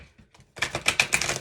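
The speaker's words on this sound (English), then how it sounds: "So I'll just do a further shuffle of this" A deck of Moonology Manifestation oracle cards is shuffled close by, a short burst of rapid riffling clicks that begins after a moment of quiet and carries on briskly to the end.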